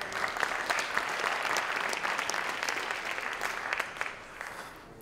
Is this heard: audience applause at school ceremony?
yes